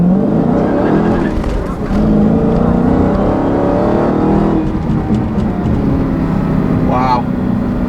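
A 2016 Dodge Challenger Hellcat with a six-speed manual accelerates hard in first gear, its loud, close engine roar rising steadily, with a brief voice heard over it.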